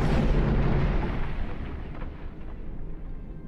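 A heavy bombardment explosion rumbles through a Star Trek Online space battle, a loud deep boom that decays gradually over a few seconds into a fading, roaring tail.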